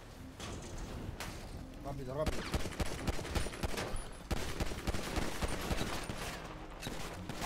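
Gunfire in a GTA roleplay video game rattles off in dense, repeated bursts of shots, loud and close. Excited voices talk over the shooting throughout.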